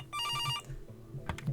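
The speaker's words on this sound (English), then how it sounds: "We've got a phone call." A telephone rings in the video game Kathy Rain 2: Soothsayer, a loud electronic trill over the first half-second, then soft background game ambience and a few faint clicks.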